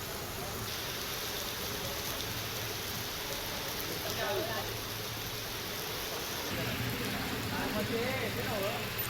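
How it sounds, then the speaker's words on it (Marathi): Heavy rain pours in Kolhapur as a dense, steady hiss of falling water, constant throughout, with a voice speaking over it. "अनेक भागांमध्ये सध्या राज्यात पाऊस पडतोय"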